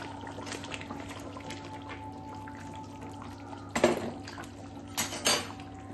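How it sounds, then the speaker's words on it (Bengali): Soaked ritha fish go into a pot of boiled potatoes for a fish curry, with faint simmering and then two louder bursts of clattering and splashing as the fish drop in. "এবার আমি ভিজে রাখা মাছগুলো দিয়ে দেবো"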